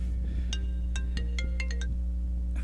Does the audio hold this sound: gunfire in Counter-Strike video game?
no